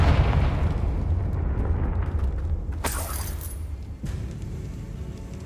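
Confringo blasting spell in Hogwarts Legacy gameplay lets out a loud, rumbling boom that fades into debris crackle, followed by a sharp burst and a smaller impact.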